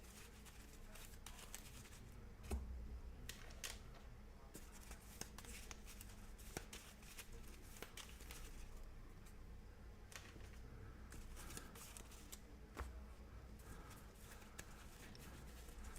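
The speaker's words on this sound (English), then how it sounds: "We need to shuffle up the hero decks because each of the heroes receives 2 cards." Board game hero card decks are shuffled by hand at a table, with soft riffling, tapping and clicking card sounds scattered throughout and a few sharper knocks, fairly quiet and close.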